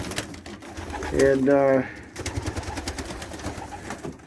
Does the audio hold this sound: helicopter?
no